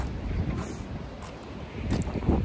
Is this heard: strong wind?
yes